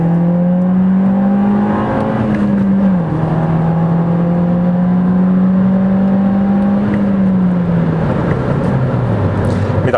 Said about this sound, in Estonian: esimene emotsioon on see ääretult korralik mootoriurin